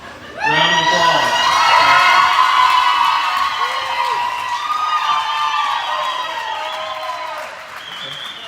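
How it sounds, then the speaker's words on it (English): A crowd at a livestock show applauds and cheers loudly, with whoops and shouted voices over sustained clapping that swells early and slowly tapers. "Round of applause."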